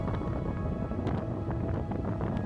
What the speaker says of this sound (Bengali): কি সাংঘাতিক হাওয়া বইছে এখানে